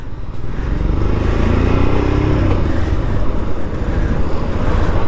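A motorcycle engine thrums steadily up close, a deep low rumble with a brief rising rev in the middle, loud and continuous without talk.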